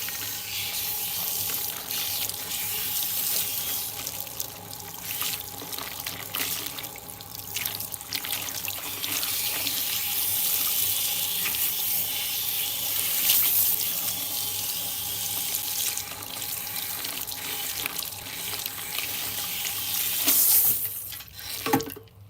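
A tap runs steadily into a sink for about twenty seconds while hair is rinsed after a hair color shampoo treatment, a continuous close splashing rush with a few drips near the end and no voices.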